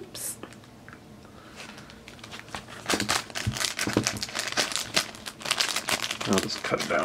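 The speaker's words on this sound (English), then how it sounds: "Oh, the crinkling. There's a lot of packaging with this stuff." Plastic toy packaging crinkles and crackles in close, busy bursts, starting quieter and growing louder, with a soft voice murmuring early on.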